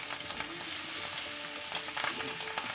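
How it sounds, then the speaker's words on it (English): Steak sizzles steadily in a hot pan with butter and garlic while being basted, a continuous close crackle with occasional louder spits and scraping stirs, no talking. "I'm gonna add in a bit of butter now and garlic. And we're gonna flavor up this bad boy."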